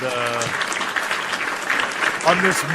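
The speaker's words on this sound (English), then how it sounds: "A round of applause for Mike Glass" Round of applause for Mike Glass during a live wrestling talk show, a brief steady clapping texture sitting under a host's voice, which speaks at the start and again near the end.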